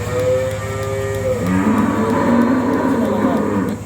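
Cows at a dairy with a milking machine moo in long, low, drawn-out calls that overlap one another, close and fairly loud over a steady background hum.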